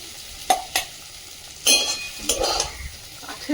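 Bitter gourd (karela) frying on an indoor wood-fired stove, with a steady soft sizzle broken by sharp clinks and scrapes of a utensil stirring in the pan, close by and moderately loud.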